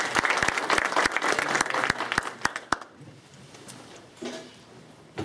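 An audience at a motivational talk gives loud, dense applause that rolls on for a few seconds, then thins out into a few scattered claps and quiet room noise.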